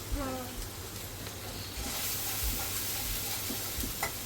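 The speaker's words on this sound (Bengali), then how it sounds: "আমি গরম তেলে রাখলাম" Food sizzling in hot oil in a pan, a steady broadband hiss that swells slightly partway through, over a low constant hum with a few faint clinks.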